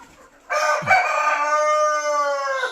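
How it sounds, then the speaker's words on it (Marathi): A rooster crows loudly and close in a poultry shed, one long harmonic cock-a-doodle-doo lasting about two seconds after a short quiet start, with a brief low cluck from the hens near its beginning. "ह्या आपल्या कोंबड्या आहेत, हे बघा कोंबड्या आहेत."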